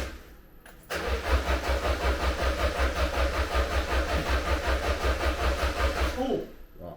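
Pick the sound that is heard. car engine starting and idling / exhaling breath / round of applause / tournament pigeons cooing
car engine starting and idling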